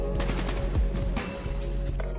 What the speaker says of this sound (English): Sentry gun's out here tearing it up.